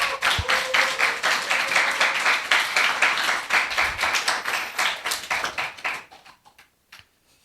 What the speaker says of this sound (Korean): 그래서 한번 환영하는 박수를 할까요?